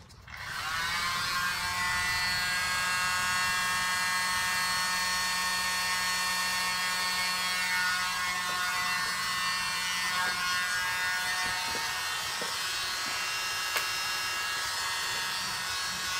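Wet acrylic paint being blown across an abstract canvas by a blower, a steady, loud whirring drone that runs without a break for the full length, with no talking.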